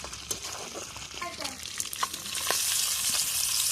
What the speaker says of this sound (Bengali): ততক্ষণ এই মুড়োগুলো এবার ভেজে নিচ্ছি